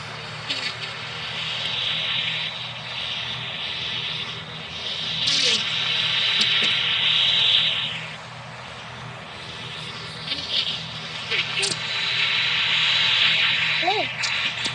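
ATR 72 turboprop airliner engines in the Roblox PTFS flight game, a steady hissing engine drone that swells and eases at intervals, with brief higher tones over it.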